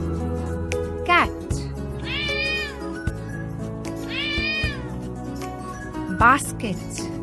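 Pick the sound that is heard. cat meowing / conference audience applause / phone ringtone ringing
cat meowing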